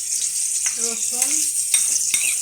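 Garlic sizzles with onion in a hot pan, a steady bright frying hiss throughout with a few light clinks, and a voice speaks briefly partway through.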